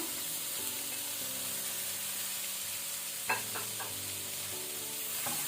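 Chopped medium tomato frying on low flame in a pan for a paneer okra sabji, giving a soft, steady sizzle. A few light clinks of a spoon stirring come midway.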